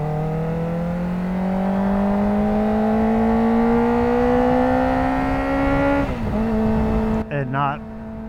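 A Kawasaki ZX-4RR four-cylinder motorcycle engine revs in a smooth, steadily rising high-pitched wail that climbs for about six seconds, then drops back with a brief burble before a short follow-up blip, loud and close.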